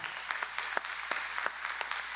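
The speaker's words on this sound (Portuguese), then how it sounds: "Aplauda ele que ele merece." A church congregation at a worship service applauds, scattered individual claps popping irregularly over a low murmur, fairly faint and sparse rather than a full ovation.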